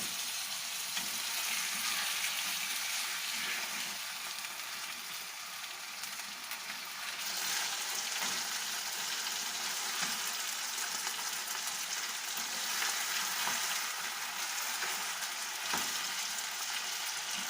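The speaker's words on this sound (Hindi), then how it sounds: "अब इसमें हम चिकन पीसेस डाल देंगे और इनको हमने तेज़ आंच पर, ये देखें, तेज़ आंच पर फ्राई करना है।" Chicken pieces for karahi frying in hot oil over high heat, a steady close sizzle with crackling that carries on without pause and grows a little louder midway, with no talk.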